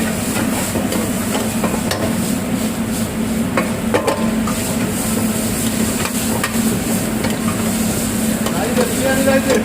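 Chicken pieces fry for biryani in a pot, giving a steady, loud sizzle with scraping stirring throughout and a faint voice in the background.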